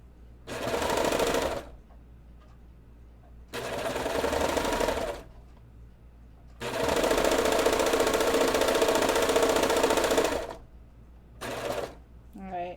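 A sewing machine stitches curling knit fabric for women's underwear in four close, loud bursts of rapid mechanical whirring separated by brief pauses.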